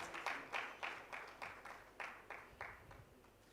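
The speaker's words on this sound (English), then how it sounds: "Can we have a huge round of applause for all our eminent speakers" Audience applause for eminent speakers at a higher education and edtech conclave in Bengaluru, heard as a fairly faint, regular run of claps that taper off over a few seconds.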